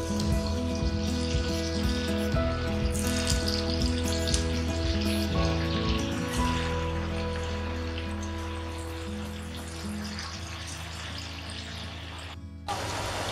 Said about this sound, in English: Now fry the potatoes for 2 to 4 minutes.